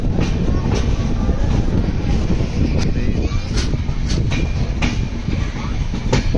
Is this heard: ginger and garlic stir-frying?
no